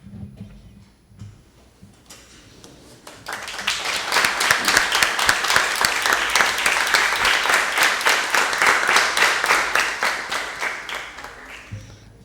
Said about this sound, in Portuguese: se coloquem de pé para receberem uma salva de palmas